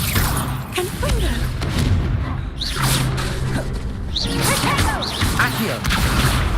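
Spell casting in Hogwarts Legacy, with whooshing swishes, thumps and booming impacts arriving in quick succession, loud and close beneath a voice speaking.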